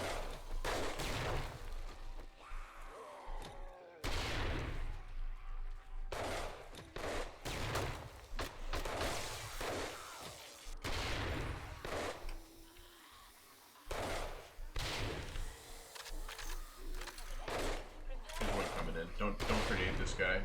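Heavy gunfire and shotgun blasts during a horde night in 7 Days to Die, loud repeated shots and bursts across the stretch with someone talking between them.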